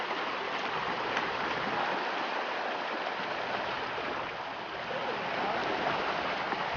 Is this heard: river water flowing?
yes